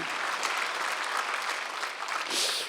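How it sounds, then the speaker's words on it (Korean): A church congregation at Sunday worship breaks into brief applause, a dense, even patter of many clapping hands filling the room for a few seconds. "박수를 한번 주세요."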